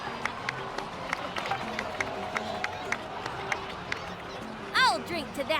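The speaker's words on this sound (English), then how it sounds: "please give another round of applause for them" Applause from a crowd in the Genshin Impact video game, heard as a light scattering of claps mixed with game music, with a brief whistling swoop and a voice near the end.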